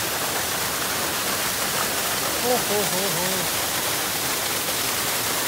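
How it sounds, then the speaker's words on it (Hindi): Snowmelt waterfall near the Nepal–China border, a steady broadband rush of falling water filling the whole scene, with someone briefly speaking over it. "झरने को काफ़ी करीब से देखने का मौका मिला है मुझे, आप लोगों को भी दिखाता हूँ थोड़ा सा।"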